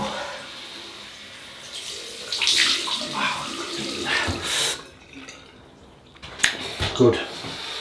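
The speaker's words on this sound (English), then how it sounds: "Cold water rinse." Cold water runs from a tap to rinse after a shave with a Rockwell 6C double-edge razor, a splashing, intermittent flow close by with bursts and trickles. Quiet talking is heard around it.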